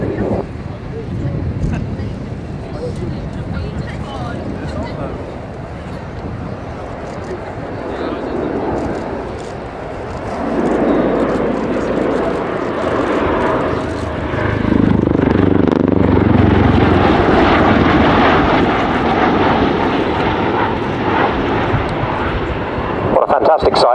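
A CV-22 Osprey tiltrotor aircraft roars through a flight display at an air show, a loud, continuous engine and rotor drone that swells as it passes, with an announcer talking over it.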